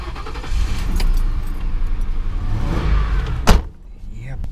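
Police car engine cranking and starting, with keys jangling and a door-like thump, the motor settling into a low rumble after a sharp transient near the end; close and fairly loud.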